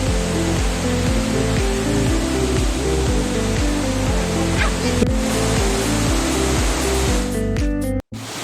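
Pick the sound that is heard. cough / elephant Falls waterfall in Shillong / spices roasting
elephant Falls waterfall in Shillong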